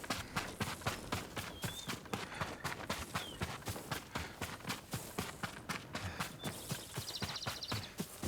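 Steady, rhythmic clip-clop of a horse's hooves at a walking pace in Ghost of Tsushima, close and clear, continuing throughout with a faint rustle of ambient noise behind.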